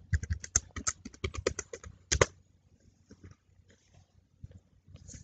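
Typing on a computer keyboard during data entry in Tally accounting software, a quick run of close, crisp key clicks followed by a few sparse, quieter taps.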